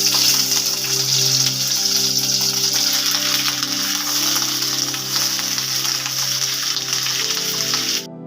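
Paneer pieces frying in ghee in a wok on a gas stove, a loud steady hiss and crackle close by that continues evenly and then cuts off abruptly at the end.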